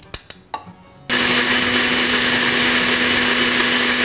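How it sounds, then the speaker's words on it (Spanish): A blender grinds mayonnaise with chipotle peppers for a turkey torta, starting after a few short knocks and then running as a steady, loud whirring hum that fills the rest of the moment without any talk. "Lo primero que vamos a hacer es moler en la licuadora la mayonesa con el chipotle"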